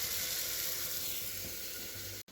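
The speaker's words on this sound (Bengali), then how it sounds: "এই যে মশলা দিয়ে কষতে দিয়েছি।" Spice paste sizzling steadily in a hot pan while frying for a Bengali fish curry with papaya and potato, a continuous close hiss that runs unbroken before cutting off abruptly near the end.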